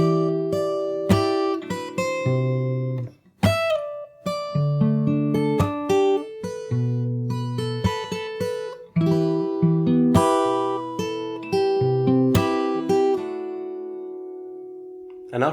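Fingerstyle acoustic guitar playing the opening of a song, with picked bass notes under ringing melody strings in a steady, flowing rhythm, close and clear with no voices.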